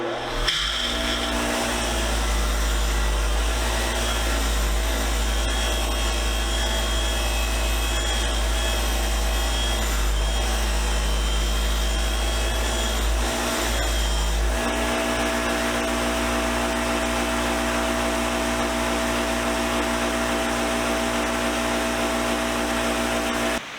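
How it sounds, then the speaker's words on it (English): Fine wire wheel on a bench grinder whirring steadily and loudly for the whole stretch while an S-K 1/4-inch ratchet socket is cleaned, the tone shifting partway as the part is pressed against the wheel. "We're going to throw it on the fine wire wheel"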